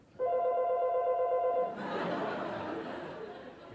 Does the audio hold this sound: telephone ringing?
yes